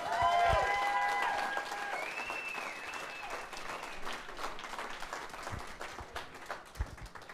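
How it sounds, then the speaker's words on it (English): Audience at a jazz club applauds a school jazz combo, opening loud with a few lingering horn tones fading out, then the clapping continues at a moderate, steady level. "Another round of applause for the Jazz Combo."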